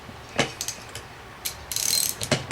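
Ratchet wrench clicks in short bursts while tightening a 15 mm bolt on an A/C compressor in a 1985 Chevy C30, a few close, sharp ratcheting strokes separated by brief pauses.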